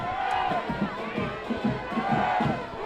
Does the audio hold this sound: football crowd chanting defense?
yes